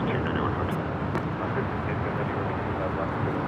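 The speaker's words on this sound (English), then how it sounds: "Do have Delta Flight 7 now rolling on 24 left, up on the north side." Delta Airbus A350-900 rolling for takeoff on runway 24 left at LAX, bound for Tokyo Haneda: a steady, broad engine roar at moderate distance, holding even throughout with wind-like rumble, no talk audible.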